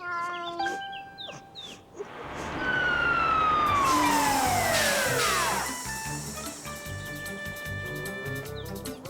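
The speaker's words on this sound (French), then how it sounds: "Caillou était tout excité de voir les pompiers arriver dans leur grand camion rouge." A big red cartoon fire engine arrives with its siren wailing in long rising and falling sweeps, loud and close and then sustained, with no voices over it.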